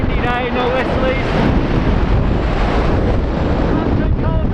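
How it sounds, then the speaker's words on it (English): Strong wind buffets the microphone nonstop at a high flying spot above Wagrain in the Austrian Alps during a paragliding race, a loud broadband roar with brief voices near the start. "She's a bit windy, bro!"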